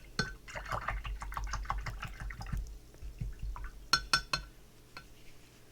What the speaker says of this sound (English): So, rinse out your brush.